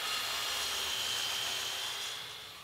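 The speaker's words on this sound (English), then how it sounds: "After cutting the brace to length," A sapele wood brace cut to length with a saw, giving a steady, fairly loud rasping hiss that runs continuously and tapers off near the end, with no talking.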